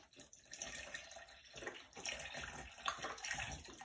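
Liquid, about two cups' worth, pours steadily into a container, a continuous splashing, trickling stream lasting several seconds at moderate close range with no talking.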